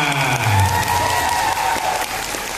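Seminar audience at an education festival in Palembang applauding loudly, a dense burst of clapping with a few cheers over a steady crowd wash, close and lasting a couple of seconds.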